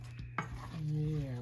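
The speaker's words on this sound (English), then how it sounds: "Those apples. Let's stir them in there. Make sure they all get coated." Sliced apples being stirred in a bowl for a deep dish apple pie, with a sharp clunk of the utensil against the bowl, then steady close scraping and mixing that grows a little louder toward the end.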